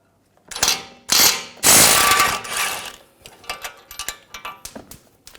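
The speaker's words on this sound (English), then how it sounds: "take this lower ball joint nut off" A ratchet fitted with a 21mm socket loosening the lower ball joint nut on a 2007-2013 BMW 328i, with several close, loud bursts of rapid clicking followed by shorter, choppier ratchet strokes.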